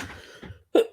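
One short, sharp cough close to the microphone, following a few quiet breathy sounds, in a country kitchen junk journal crafting session.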